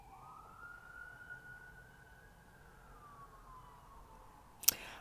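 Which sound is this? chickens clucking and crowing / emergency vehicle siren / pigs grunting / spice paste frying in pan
emergency vehicle siren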